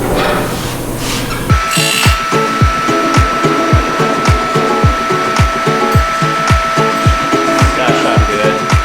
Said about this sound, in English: We'll just grind everything out in between.